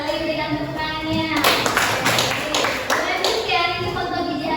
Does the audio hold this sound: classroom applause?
yes